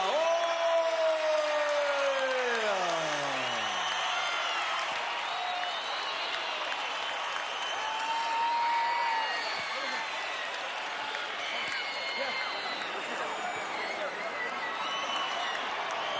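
An arena crowd at a world-title boxing match applauding and cheering after the decision is read, a sustained roar of clapping and shouts under a ring announcer's amplified voice.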